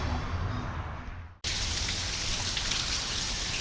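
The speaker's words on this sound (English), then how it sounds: "welcome to Southern California in rainy season." Steady rain falls on a Southern California garden in rainy season, a dense, close hiss of drops on surfaces that cuts out briefly near the middle and then returns louder and brighter, with no voices.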